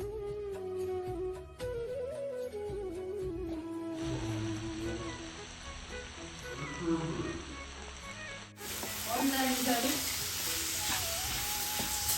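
Lady fish curry masala cooks in a pan after a quarter cup of water is added, giving a steady close sizzle and bubbling with clinks partway through and a louder hiss near the end.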